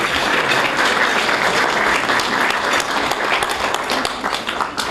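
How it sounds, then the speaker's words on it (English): Banquet crowd at a Forest Hills Foundation for Education event applauding the standing board members, dense steady applause from many hands, loud and sustained, easing slightly toward the end. "A round of applause for these folks."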